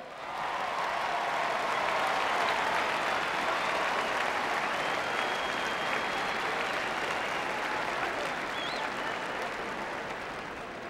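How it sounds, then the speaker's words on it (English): Delegates at the 1992 Democratic National Convention give Ron Brown a long, loud round of applause, a dense roar of clapping that swells and holds across the arena with faint whistles and cheers mixed in. "Give Ron Brown a great round of applause."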